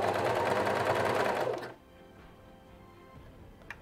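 An overlock serger stitching a sweater's shoulder seam runs with a fast, loud, close mechanical whir for under two seconds, then stops abruptly, leaving a quiet room with a faint click.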